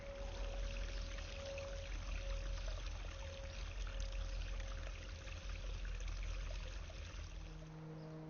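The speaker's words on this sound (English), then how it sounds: "Still got some work to do on the stream this year." Garden stream water feature in a rockery, water flowing and trickling steadily over stones with a constant broadband wash, fairly close and uninterrupted throughout, no voices.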